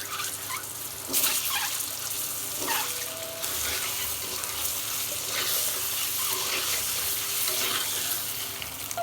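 Eggs frying in oil in a wok, with salt and turmeric powder added, giving a steady, close sizzle throughout with occasional stirring scrapes and no talk.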